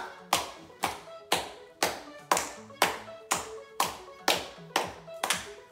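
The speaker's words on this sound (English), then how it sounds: "Let's clap!" Steady, even hand claps repeat about ten times in under six seconds, crisp and close, ahead of a worship song for children.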